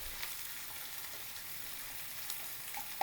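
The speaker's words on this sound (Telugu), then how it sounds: "ఈ చిల్లీస్ ఆనియన్ బాగా ఆయిల్లో ఫ్రై అవ్వాలి." Chopped onions, garlic and chillies frying in hot oil for homemade pani puri and masala batani chat, giving a steady close crackling sizzle with occasional sharper pops and a slight stir near the end, no voices.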